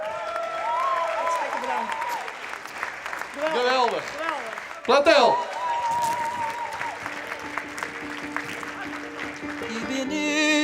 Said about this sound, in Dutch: En een donderend applaus.